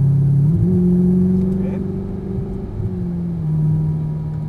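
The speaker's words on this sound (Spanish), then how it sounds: "Comenzamos a acelerar ahí, más pegado." A sports car on a driving track accelerates, its engine droning steadily and slightly rising in pitch while someone talks over the sound inside the cabin.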